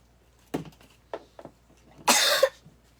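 One sharp, close cough bursts out during quiet crafting at a table, coming after a few soft clicks and light handling noises.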